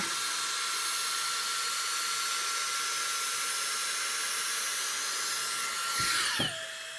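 A hair dryer blows cool air steadily with a constant whir, close to the microphone, used to set makeup, then cuts off near the end, its pitch dropping as it winds down.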